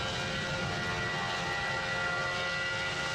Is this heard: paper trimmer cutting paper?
no